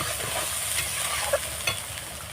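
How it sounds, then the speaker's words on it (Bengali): A spice paste with salt fries in a pan with a continuous dense sizzle, and a couple of light scrapes mark slow stirring near the pan. "দিয়ে আমি ভালোভাবে কষিয়ে নেব দেখুন বন্ধুরা এইভাবে আমি কষিয়ে নেবো"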